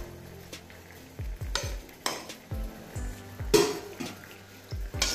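Buttermilk mixed with green chillies and coriander stirred in a metal vessel, with a steady series of soft clinking scrapes and a few louder knocks against the sides, close and moderately quiet with no talking.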